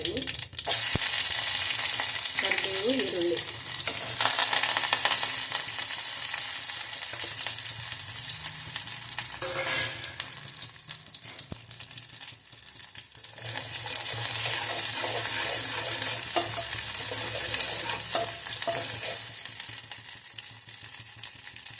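Onions hiss loudly as they go into hot oil with cumin, settling into a continuous close sizzle with stirring noises that eases briefly midway and then returns strong.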